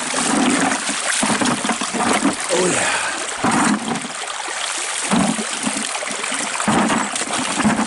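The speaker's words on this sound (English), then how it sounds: "Let's put some water on it." Water poured and splashing over a jasper rock in a mountain creek, a loud continuous splatter and trickle over flowing stream noise, with someone talking briefly.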